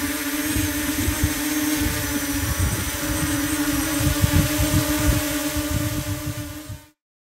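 A DJI Mavic Mini drone lifts off, its rotors giving a steady close buzzing hum with a strong tonal whine that holds for about seven seconds, then cuts off abruptly.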